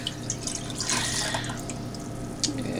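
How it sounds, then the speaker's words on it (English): Cold chilled water is poured into a cooled turkey brine, a steady splashing, trickling stream that runs throughout at moderate loudness, with no talk over it. "now we're going to add 8 cups of cold chilled water"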